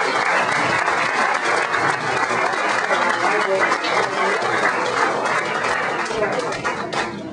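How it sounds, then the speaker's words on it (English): A community audience breaks into sustained, loud applause that fills the room evenly for several seconds before easing slightly at the end. "So please give yourselves a round of applause."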